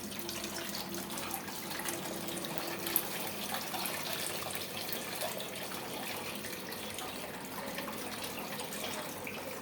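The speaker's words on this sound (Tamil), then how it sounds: "இந்த புளியோட தண்ணியை ஊற்றணும்." Steady splashing of tamarind water being poured into a pot for fish curry, a continuous watery rush with no talk.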